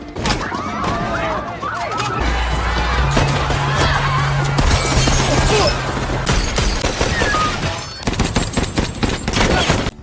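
Heavy gunfire in a casino shootout from a movie action scene, with dense overlapping bursts and automatic fire, loud and continuous, punctuated by crashes and impacts, with a brief lull before another intense volley.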